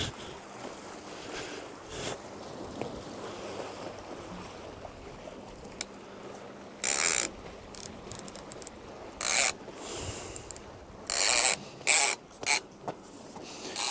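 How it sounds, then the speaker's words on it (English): Ratchet clicking from a fishing reel on a rod laid on rocks during a night cod session, with intermittent bursts of rapid clicks standing out against low background rumble, no talk. "With the ratchet on."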